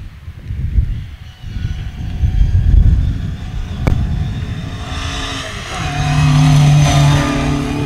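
A Sunbeam rally car passes on a rally stage, its engine rumbling and building in a loud roar with a rising whine as it nears, heard outdoors without commentary.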